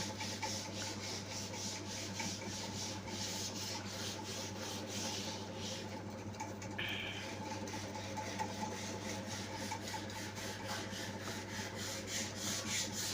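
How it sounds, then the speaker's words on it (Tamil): Neem wood for a doorway frame is scraped and rubbed by hand with a blade in joints and tight gaps, giving a steady run of close, repetitive rasping strokes with no talking. "மிஷின் போட முடியாத இடத்துலலாம் தகுடு போட்டு சொரண்டிப்போம்"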